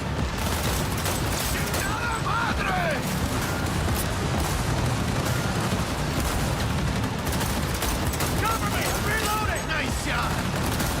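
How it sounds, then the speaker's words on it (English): Submachine gun fire in the shooter game Cyberpunk 2077, a dense, steady rattle of shots running the whole time under busy game effects, with speech-like sounds mixed in. "I like the submachine gun. It has way less recoil than the assault rifle."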